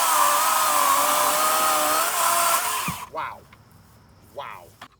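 A DeWalt 60V MAX 20-inch cordless chainsaw, model DCCS677 on a FlexVolt battery, runs loud and close in a cut through an 8-10 inch beech log, then winds down abruptly, followed by a couple of short whirring revs.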